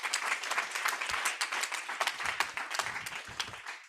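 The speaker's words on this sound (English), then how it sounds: "Give her a round of applause." Audience at a gender-focused education side event bursts into dense, continuous applause, loud and sustained throughout.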